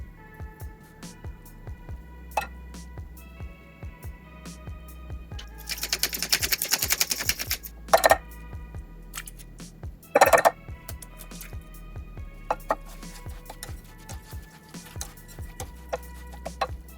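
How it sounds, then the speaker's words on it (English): Jackfruit crab cake mixture being stirred together in a bowl: sparse ticks and clinks of a utensil, with a few brief bursts of louder scraping and mashing, close and quiet with no talk. "just kind of put everything together and then give it a nice little mix"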